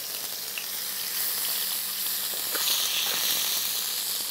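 Mutton stew frying in a pan gives off a soft, steady sizzle with occasional small spatters, heard close and quiet with no talk.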